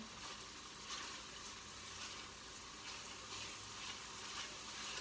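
Faint, steady sizzle of kale sautéing in a pan used for pork chops, with soft stirring and a broad hiss throughout.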